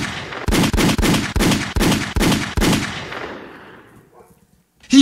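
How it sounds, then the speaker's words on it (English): A gunshot sound effect fires in a rapid burst of about seven loud, booming shots on a podcast, each with a short echoing tail, before it rings out into silence and a voice briefly cuts in. "but let me hit the gunshot."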